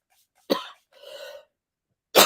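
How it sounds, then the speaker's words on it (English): Two sharp coughs from one person, a short breathy throat-clearing between them, then a second cough cut off at the end, close and clear against silence. "I'm starting to cough"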